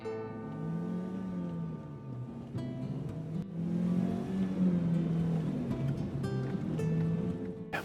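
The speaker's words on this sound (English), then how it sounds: "Back in the Jeep. Not the quietest car in the world. It's got a turbocharger, a 6-speed stick shift" A turbocharged Jeep with a 6-speed manual transmission drives along, its engine droning and rising in pitch as it accelerates through the gears, heard steadily from inside the cabin without talk.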